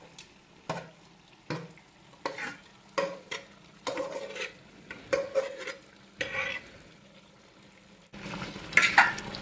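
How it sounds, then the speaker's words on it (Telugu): A spoon scrapes and turns biryani rice mixed with chicken curry in a pot, in a steady series of scraping, shuffling strokes with a faint sizzle beneath, ending in a louder clatter. "రైస్ మొత్తానికి చికెన్ పీసెస్లు అనేవి బాగా పట్టేలాగా ఒకసారి అయితే మొత్తానికి మనం మిక్స్ చేసుకుంటున్నామండి"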